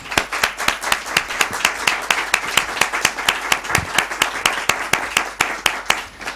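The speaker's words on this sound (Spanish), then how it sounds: "pido un aplauso de ánimo y de respaldo" Audience applause of encouragement at a lecture at La Matritense, settling into a steady rhythmic unison clapping, loud and regular with crisp individual beats, no talking over it.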